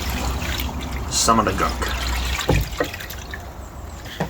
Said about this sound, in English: I can slosh this stuff back and forward